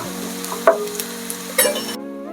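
Onions fry in a pan for restaurant-style soya chili with a steady low sizzle and a couple of sharp clanks from stirring, close and fairly quiet, and no talking.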